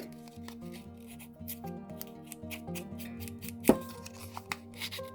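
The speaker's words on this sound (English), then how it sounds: "I just use my scissors because I don't have that special tool" Scissors snipping and scraping along the edges of printed cardstock to rough them up, a series of light crisp cuts and rasps close by with one sharper snip standing out.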